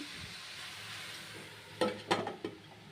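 Bottle gourd curry frying in a pan, a steady low sizzle that runs throughout, broken near the end by three sharp clinks of a utensil against the pan.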